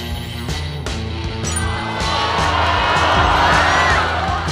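Crowd at a university event cheering and whooping for a student band, loud shouts and cheers rising over amplified music and drums, growing denser in the second half.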